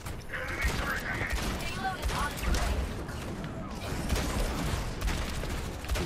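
Gunfire rattling in Overwatch as the player shoots at a tire, dense continuous shots and mechanical clatter running throughout under game sound effects.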